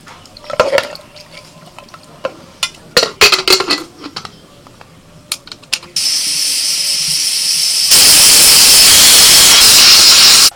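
A pressure cooker boiling mutton with water, salt, Kashmiri chilli powder and turmeric releases steam. Scattered clinks of utensils come first, then a loud, steady hiss that grows stronger and continues to the end.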